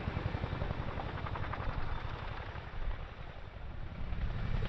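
Chinook helicopter at the Cosford airshow, a continuous loud rotor thump and turbine roar with a rapid pulsing beat and no pauses, holding steady and heavy throughout.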